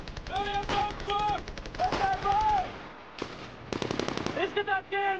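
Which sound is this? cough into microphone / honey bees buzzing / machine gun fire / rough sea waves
machine gun fire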